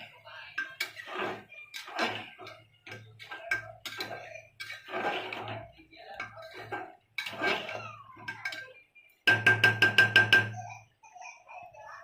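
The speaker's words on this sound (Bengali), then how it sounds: "মাংসটা একটু নাড়াচাড়া দিয়ে দিই।" Meat cooking with potatoes is stirred in a pot, giving a series of close metallic scrapes and clinks in irregular bursts that end in a quick run of sharp taps, with brief pauses between.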